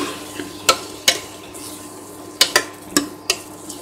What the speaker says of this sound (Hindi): तो अच्छे से हम मिक्स कर देंगे।